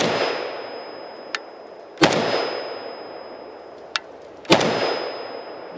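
A rifle fires single shots from a fresh magazine at an outdoor range, two sharp loud reports about 2.5 seconds apart, each followed by a long echoing decay, with fainter metallic clinks between them.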